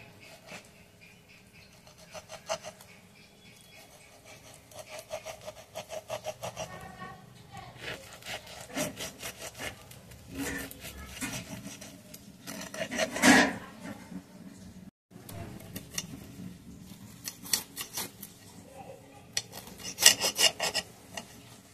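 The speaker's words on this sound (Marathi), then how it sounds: "चला आपण त्याला कट करून घेऊया। मी चाकूनी करत आहे बघा" A knife rasps and scrapes through a homemade cheese pizza, with repeated gritty cutting strokes close by and a brief louder crunch midway; a voice talks faintly in the background.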